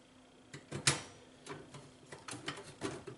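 Small screws are driven into a Dell computer case, a faint series of irregular clicks and ticks with one sharper snap near the start, close and quiet with no voices.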